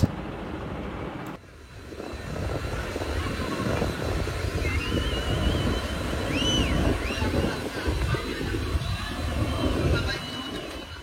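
Steady loud engine drone and rushing wind from the Kuakata-2 passenger launch racing along a river at night, a dense continuous rumble with faint whistling tones rising above it.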